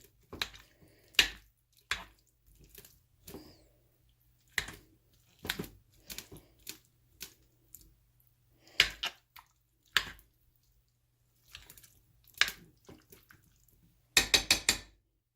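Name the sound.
big spoon chopping up sausage in a pan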